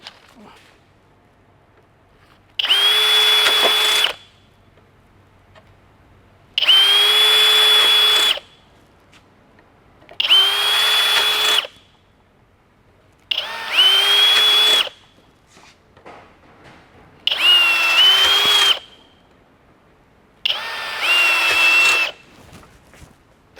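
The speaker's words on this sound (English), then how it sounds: "You're going to want to drill this one out just like you did the others with the 1/4" drill bit." A power drill with a quarter-inch bit runs in six separate bursts, each about a second or two long with a steady high whine, separated by quiet pauses.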